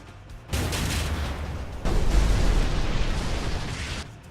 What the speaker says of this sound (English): Why are the explosions over here?